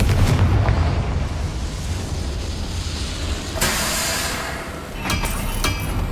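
A Confringo fire spell explodes in Hogwarts Legacy: a sharp blast lands mid-clip over a dense, rumbling low-frequency bed, with further crackling bursts following near the end.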